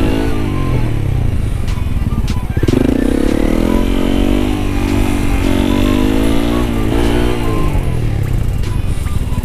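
Motorcycle engine running steadily and loud, pitch dipping and rising as the rider brakes toward a stop while balancing on one wheel, with a low idle hum throughout and no speech.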